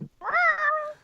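A single drawn-out cat meow, rising then gently falling, close and clear, preceded by a brief low thump.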